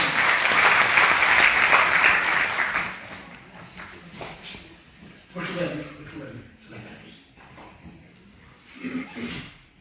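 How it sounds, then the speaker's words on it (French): Audience applause at a study day on women's economic empowerment, a dense burst of clapping for about three seconds that fades out before voices and scattered noises take over. "Donc vraiment, je vous demande d'applaudir."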